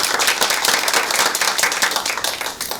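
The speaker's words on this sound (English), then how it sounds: "So please give a welcome round of applause to Jackie." Audience at an evening parent academy session gives a loud, dense round of applause to welcome a speaker, steady clapping throughout with no talk.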